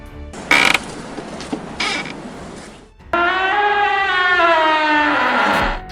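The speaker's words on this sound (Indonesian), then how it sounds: "Suara ayunan atau decitan pintu yang ada dalam film horor berasal dari suara engsel berkarat loh" A rusty door hinge creaks as a horror-film sound effect: a few rough scraping and rattling bursts first, then a long, loud, drawn-out squeal that slowly bends downward in pitch.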